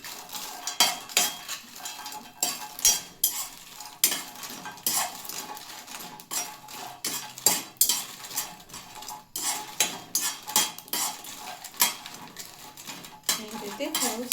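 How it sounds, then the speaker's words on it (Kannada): Byadgi red chillies dry-roasted in a metal pan, heard as a quick, irregular run of scraping and clinking strokes from a spatula against the pan, close and steady throughout with faint sizzle. "ಈಗ ಮೆಣಸಿನ್ಕಾಯಿನೂ ಸ್ವಲ್ಪ ಬಿಸಿ ಮಾಡ್ಕೊಂಡ್ರಿ ಫ್ರೆಂಡ್ಸ. ನಾನು ಬ್ಯಾಡಗಿ ಮೆಣಸಿನ್ಕಾಯಿ ತೊಗೊಂಡು"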